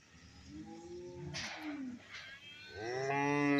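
Young buffalo calves at a livestock market bellow and moo nearby, several drawn-out calls in succession over low background noise, with no speech.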